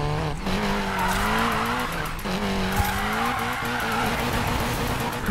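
Tyres squeal steadily as a Volvo 242DL slides through a drift in the racing game Need for Speed Payback, a continuous loud screech over engine roar that wavers in pitch and briefly dips mid-slide.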